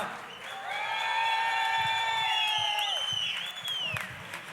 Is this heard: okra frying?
no